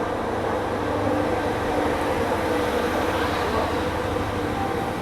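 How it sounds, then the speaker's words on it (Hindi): A passenger train pulling out of Bhopal station, a steady rumbling roar of wheels and carriages on the rails with constant low vibration, no talk. "ट्रेन आई और 5 मिनट बाद अपना भी डिपार्चर हो गया यहाँ"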